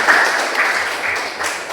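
A small class audience in an Islamic religious education session claps for a group's funeral prayer demonstration, a short, dense burst of hand clapping heard close up.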